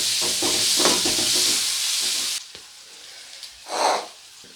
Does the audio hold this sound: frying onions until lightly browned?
yes